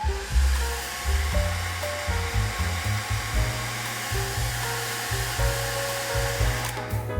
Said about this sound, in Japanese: この部分を一旦ドライヤーで乾かします